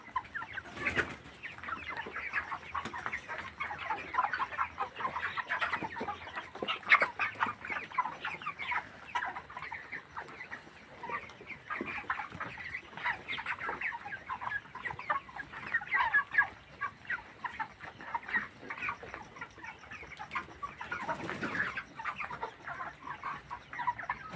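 Broiler chickens in a poultry farm shed keep up a dense, continuous chorus of clucks and chirps, many birds close by and fairly loud throughout, with no talk over them.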